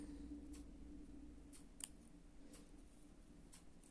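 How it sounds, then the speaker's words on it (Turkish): Scissors snip burgundy thread while making needle lace, a faint close click and snip over a quiet steady room hum, with a few soft ticks around it. "Öbür bordo ipi de kesiyorum."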